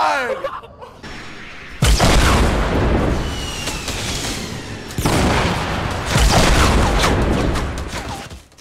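Rapid gunfire and booming explosions from a Fortnite match fill the clip, loud and dense in two sustained bursts, with excited players shouting over the chaos.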